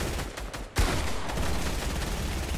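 Gunfire in the video game Fortnite, a sharp close burst of shots followed by continuing rapid fire that fills the rest of the moment, with no talk over it.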